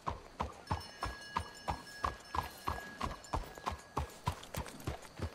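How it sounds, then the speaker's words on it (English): Horse hooves clip-clop at a steady walking pace in Red Dead Redemption 2, about a dozen even, close hoofbeats on hard ground with a faint continuous tone behind them. "Let's hitch your horses up ahead."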